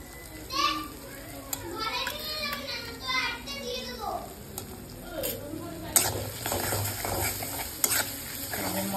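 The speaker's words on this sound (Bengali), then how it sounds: "মশলা দিয়ে আমি ভালো করে মিলাই নি" Packet dal spice mix stirred into fried tomato and onion in a pan, with sizzling and scraping strokes under children playing and talking nearby.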